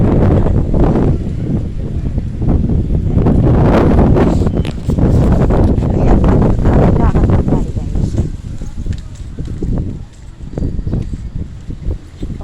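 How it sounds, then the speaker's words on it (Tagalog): Loud, gusty wind buffets the microphone in a continuous roar, with brief fainter gaps. "Lakas ng hangin"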